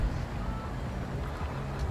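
Toyota Fortuner Legender engine in GTA 5, a steady low idle drone held evenly throughout, fairly loud and close with no other sounds.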